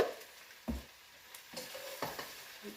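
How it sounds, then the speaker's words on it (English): Middle Eastern sautéed greens, salted, stirred in a pan with a few scraping, rustling stir strokes over a quiet sizzle, close and fairly soft. "Give those a good stir."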